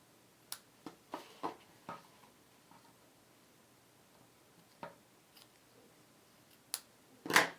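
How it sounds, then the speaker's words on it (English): Scissors snip the little tails of a ribbon bow on a small craft gift box, making faint, sharp clicks scattered irregularly across a quiet background, with a slightly louder snip at the end. "I think I'm going to cut the little tails of my bow just"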